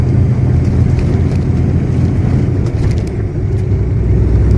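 Semi truck accelerating back up to speed on the highway, a loud, steady engine roar with broad road rumble that holds throughout without any talk.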